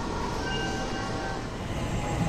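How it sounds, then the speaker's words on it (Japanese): A JR Central 313 series electric train, a rapid service to Ogaki, rumbles steadily nearby with a continuous low roar and faint whining tones, no voices. "やってきた車両は JR 東海でおなじみの313系電車大垣行き快速"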